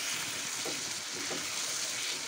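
Chicken is sautéed in spiced masala, a soft steady frying sizzle with a couple of faint stirring shuffles, close but quiet.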